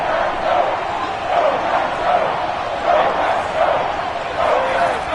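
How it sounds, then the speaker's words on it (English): A loud football stadium crowd at an NFL wildcard playoff game with Tampa Bay, a dense sustained roar with rhythmic swells of cheering and chanting throughout. "That just means this crowd's going to get even louder"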